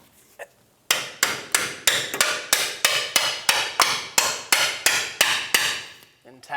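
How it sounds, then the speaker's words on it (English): A hammer taps a bolt through the steering rack bushing of a 2000-2006 Toyota Tundra, about fifteen sharp, loud metallic strikes in a steady, even rhythm close by, alone without talk. "And tap our bolt through."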